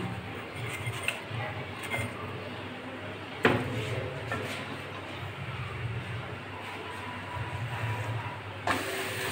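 Potato parathas (ranga alu porota) frying in hot oil, a continuous soft sizzle and hiss with occasional sharper crackles and clicks, fairly close and steady throughout.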